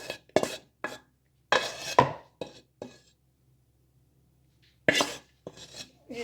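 Roasted flour for gond ladoo being scraped from a hot pan into a bowl: short, crisp scrapes and metallic clinks come in quick bursts, separated by brief quiet pauses.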